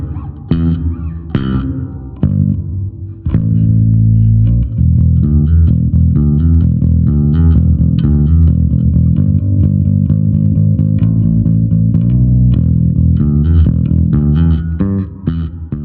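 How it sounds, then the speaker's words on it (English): Bass guitar notes played through a NUX Mighty Bass 50BT combo amp with reverb at maximum level, a few plucked notes then sustained, washy tones ringing out and blending together, loud and alone. "there's also a reverb, and I personally have never used reverb on bass"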